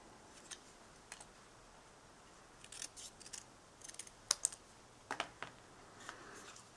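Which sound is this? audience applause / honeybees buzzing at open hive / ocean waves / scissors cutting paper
scissors cutting paper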